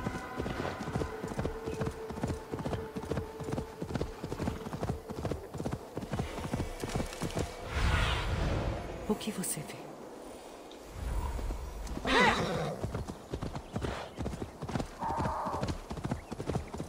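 A horse in the video game Assassin's Creed Valhalla, with steady rhythmic clip-clop hoofbeats throughout and a loud neigh and snort midway, while a voice talks briefly in the background.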